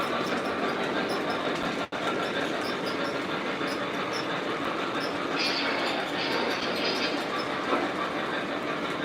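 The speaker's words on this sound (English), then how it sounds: "Let's get this streetcar going." A Lionel/MTH model streetcar runs on a toy train layout with a continuous, fairly loud rolling rumble and wheel hiss, and faint clicks and squeals from the track.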